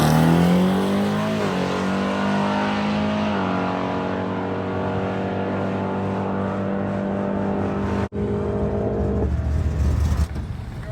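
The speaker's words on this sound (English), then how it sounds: "So when the car launches, if the nitrous doesn't come on, I'm going to grab the button right after I make the gear change from first to second." A Chevrolet Malibu drag car on nitrous launches with a loud, sustained engine roar that climbs steadily, breaks at a gear change, then pulls on hard, close and alone.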